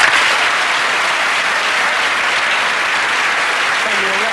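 Studio audience applause from a 1988 BBC One Saturday evening television roadshow, a dense, steady wash of clapping filling the whole stretch at close, loud level with no talk over it.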